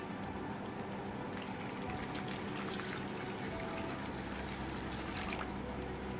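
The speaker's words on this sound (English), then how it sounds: "Now I'm going to pour water into these." Water poured into a container of moong dal seeds set to soak, a steady trickling, splashing flow lasting several seconds at close range with no talking.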